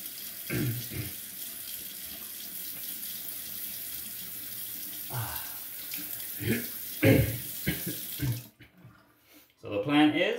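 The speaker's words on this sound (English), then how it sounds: "Rinse up, go for a second." Tap water runs from a faucet into a sink to rinse a Spearhead Seaforth SSL safety razor, a steady close splashing stream that shifts as the blade passes through it, then briefly cuts off before resuming.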